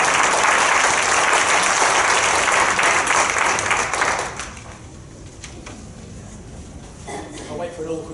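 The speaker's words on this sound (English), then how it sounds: "You clap now." An audience applauds after a talk, a dense, loud wash of many hands clapping that fades away after about four seconds, followed by a few quieter sounds and a voice near the end.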